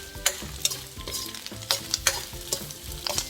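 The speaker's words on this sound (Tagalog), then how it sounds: "so nagre-render na po ang ating pork. Yan, makikita nyo nagre-render na siya. So halu-haluin lang natin." Pork pieces rendering fat in a hot pan, steady sizzling and frying with repeated scraping clicks of a utensil stirring the meat, close and clear with no talking.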